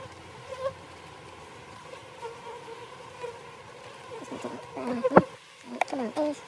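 Honey bees buzz around a hive outdoors in winter, a faint steady drone with individual insects whining past closer at times, under light background noise.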